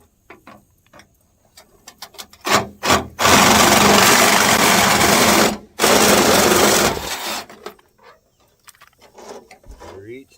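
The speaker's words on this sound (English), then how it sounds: "we're going to take our Sawzall and we're actually going to cut this 2x3" A Sawzall reciprocating saw cuts through a wooden 2x3 in two loud buzzing bursts with a brief pause between, preceded and followed by scattered knocks and handling noises.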